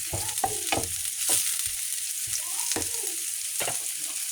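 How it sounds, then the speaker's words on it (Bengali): Chopped onion frying in a hot pan for chicken chow mein, a steady close sizzle with intermittent scraping strokes as it is stirred. "20 সেকেন্ড ভাজছি পেঁয়াজটা।"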